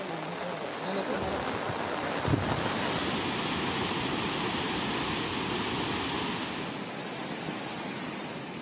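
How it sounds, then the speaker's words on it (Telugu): The Dinda stream in Asifabad district of Telangana runs in flood, a steady broadband roar of rushing water from start to finish, loud and close, with no voices over it. "ఆసిఫాబాద్ జిల్లాలోని దిందావాగు ఉప్పొంగి ప్రవహిస్తుండగా దిందా గ్రామం జల దిగ్బంధమైంది"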